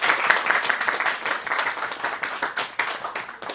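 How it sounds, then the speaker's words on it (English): A crowd applauds steadily, many hands clapping together in a dense, sustained wash of sound. "So a round of applause for y'all."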